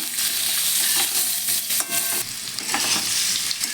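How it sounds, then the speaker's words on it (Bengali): Potatoes with a little turmeric crackle in hot frying oil, a dense bright sizzle with repeated spatula stirs and scrapes close by, loud and continuous without any talk. "আলুটা ভালো করে ভেজে নেব"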